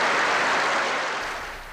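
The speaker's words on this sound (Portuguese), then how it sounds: "No plenário lotado, o novo presidente foi recebido com aplausos pelos representantes do povo" Applause from a packed parliamentary chamber as a newly installed president is received, a steady broadband clatter of many hands, loud and continuous, easing slightly toward the end.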